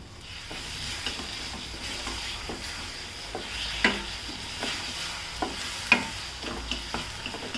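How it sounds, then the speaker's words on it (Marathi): Ground masala paste fries in a pan for a dhaba-style rajma masala, and a spoon stirs it in regular scraping strokes with sharper knocks, all over a soft, steady sizzle heard up close. "वाटलेला मसाला चांगला परतून घ्यायचा याच्यामध्ये."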